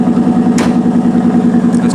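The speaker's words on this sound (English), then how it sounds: "The engine itself is a 5-liter V8, which is fully forged, and much to my surprise, it's naturally aspirated." A 2012 Ford Mustang Boss 302 Laguna Seca with its naturally aspirated, fully forged 5-liter V8 idles steadily close by, giving a deep constant rumble with a brief higher-pitched rustle partway through and no talk.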